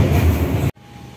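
Inside the Kahuripan train as it nears Leles station, a loud steady rumble of wheels and carriage noise fills the space. After about a second it cuts off abruptly, leaving a quiet hum.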